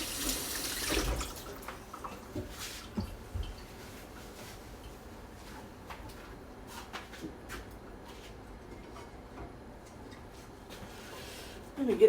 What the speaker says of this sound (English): Let me get some water ready.